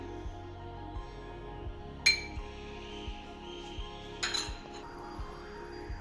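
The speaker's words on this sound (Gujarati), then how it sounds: "આ મિશ્રણને બરાબર હલાવી અને લમ્સ ના રહે ત્યાં સુધી એક પેસ્ટ જેવું બનાવી દેવાનું છે" A spoon stirring gram flour, curd and buttermilk batter in a bowl for khandavi, soft steady scraping with a few bright clinks against the bowl, close and quiet.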